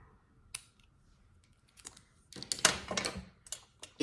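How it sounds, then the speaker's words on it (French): Scissors snipping off excess string, a few sharp, close clicks and snips in quick bursts with quiet gaps between them. "je vais couper le surplus de ficelle"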